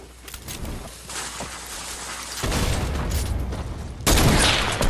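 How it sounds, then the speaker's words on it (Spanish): Sniper rifle shots in the Fortnite video game, sounding as loud bursts of gunfire with a sharp jump in level near the end, over steady game noise. "acabo de recargar el maldito franco y tengo que disparar"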